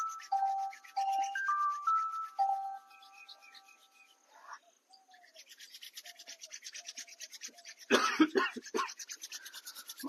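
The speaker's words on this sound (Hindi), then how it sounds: "दोनों हाथों को रब कीजिए, थोड़ा रगड़िए।" Two hands rub briskly together to warm them during a yoga routine, giving a run of quick, even rasping strokes, close and moderately loud, after a few soft chime-like tones.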